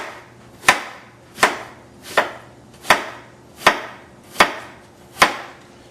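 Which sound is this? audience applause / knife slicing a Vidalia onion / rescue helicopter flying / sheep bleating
knife slicing a Vidalia onion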